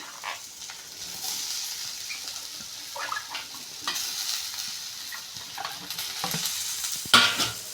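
Cabbage frying in a pan while being stirred, soft scraping strokes over a steady sizzle, with a sharper clink near the end.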